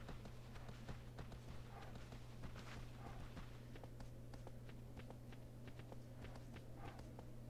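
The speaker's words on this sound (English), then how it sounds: "I'm just going to surf my horse on over here" Horse hooves clip-clop at a steady running pace through rugged terrain in Shadow of the Colossus, the repeated thuds sitting under a constant low ambient drone without any talk.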